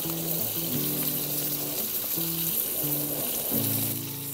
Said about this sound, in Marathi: तोपर्यंत 3 फ्राय करायला टाकलेत आपण